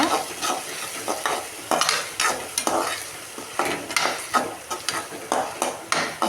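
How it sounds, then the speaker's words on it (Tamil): Tomatoes sauté in a pan with a ground paste, a soft sizzle under rhythmic spoon scrapes that repeat several times a second, close and without talk. "அந்த தக்காளி கொஞ்சம் நல்லா வதங்கிருச்சுங்க"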